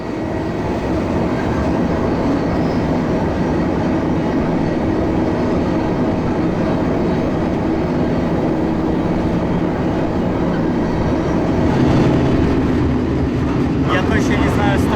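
Freight train running at about 96 km/h toward Chicago, a steady loud rumble of rolling wagons with rhythmic wheel clatter throughout and brief metallic ringing near the end.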